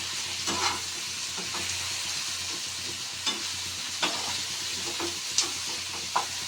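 Brinjal curry vegetables cooking in oil, a constant hissing sizzle close by with a handful of spaced spatula scrapes and taps on the pan, no talking.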